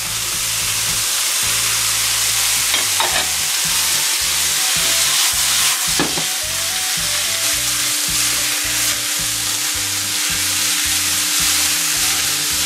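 Mushrooms and pickled cabbage hiss and crackle loudly in a hot wok for sour soup beef, with a spatula scraping and tossing them in a rapid, regular rhythm under constant sizzling.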